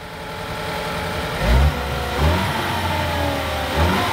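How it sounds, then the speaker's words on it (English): A cold Ford engine with a blown-up fault, revved in three short bursts that rise and fall back to a steady idle between them, close and loud in 40-degree weather. "Okay, rev it up."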